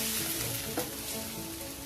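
Mama instant noodles stir-frying with their seasoning powder in a hot pan, a steady close sizzle of oil with a brief clatter of stirring partway through.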